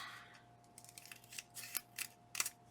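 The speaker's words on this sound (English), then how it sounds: "Need my long scissors for this." Several short, crisp snips of long scissors cutting paper, coming in an uneven run and growing closer together toward the end, quiet and near with no talking.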